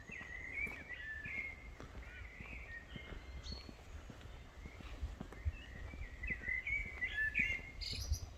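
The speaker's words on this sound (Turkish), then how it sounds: "kuşların cıvıltılar arasında" Birds chirp and trill intermittently at a distance in a forest in Germany, with footsteps crunching softly along a forest path to a lake beneath them.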